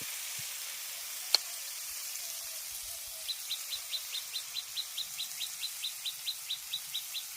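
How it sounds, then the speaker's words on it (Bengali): Spice masala with chili powder fries in a hot pan, a steady soft sizzle throughout. A bird chirps in a regular repeating pattern in the background. "এবার মশলাটাকে খুব ভালো করে কষাবো যাতে মশলার কাঁচা গন্ধটা চলে যায়"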